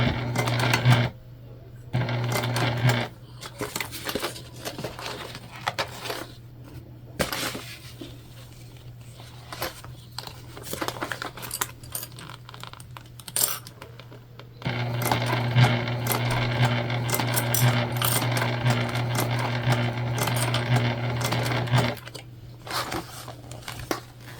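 A sewing machine stitches slowly over a bulky seam of a fabric candy bag, its steady motor hum and needle clatter starting and pausing, then running louder and denser in a long burst near the end.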